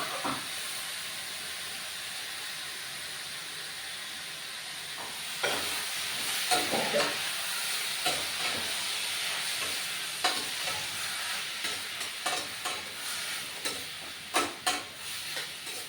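Boiled bottle gourd tipped into finished spice masala in a hot pan, hissing and sizzling steadily, then sharper bursts of frying as it is stirred, with repeated scrapes and clatters in the second half.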